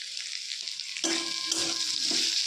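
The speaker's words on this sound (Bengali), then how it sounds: "আলুটা যখন অল্প কষা হবে তখন আমি এর মধ্যে দিয়ে দিচ্ছি পেঁয়াজ কুচি" Potatoes sauté in a pan as chopped onion goes in. A steady, bright sizzle runs throughout and swells louder and denser after the first second, with no voices.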